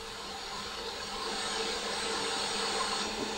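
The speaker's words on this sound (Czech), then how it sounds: "lampy jsou ochlazovány proudem vzduchu ventilátoru" A ventilator fan blows a steady stream of air to cool X-ray tubes in a fume hood at a factory making X-ray lamps, a constant broadband whoosh with a faint hum, moderately loud and unbroken.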